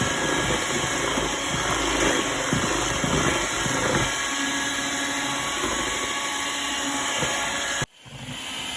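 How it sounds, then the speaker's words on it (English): Electric stand or hand mixer running steadily on low speed, whirring through flourless cheesecake batter with vanilla pudding, with a continuous motor drone that stops abruptly near the end. "I'm gonna put my mixer on low because I don't want it to fly away"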